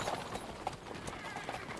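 A video game horse's hooves clip-clop in a steady, quick rhythm, faint and mid-distance, with a brief whinny-like texture, set against quiet background ambience.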